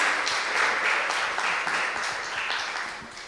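A church congregation gives a big round of applause to welcome a doctor to the front, a loud, full wash of clapping that holds steady throughout with light rhythmic peaks.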